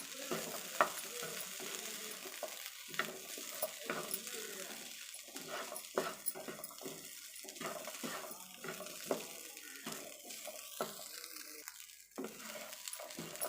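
Masala sundal with grated coconut sautéing in a pan, with a steady sizzle and scraping stir strokes running throughout, close and moderately loud, with occasional light clinks and faint background talk.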